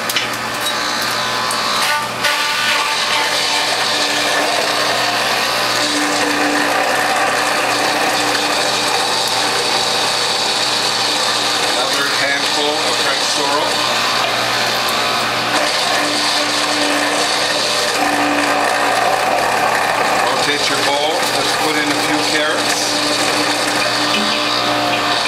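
A Whole Health Foundation juicer presses French sorrel through its front-loading feed tube, giving a loud continuous grinding and ratcheting mechanical drone with a steady motor hum throughout.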